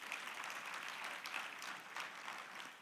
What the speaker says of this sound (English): let's give her another good round of applause